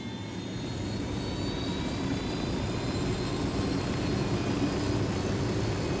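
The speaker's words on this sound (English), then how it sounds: "You don't actually have to wait for them to get in the helicopter" A helicopter engine in a Ubisoft video game, a steady, loud whining and roaring drone with a faint high whistle, continuous and unchanging throughout, with no talking.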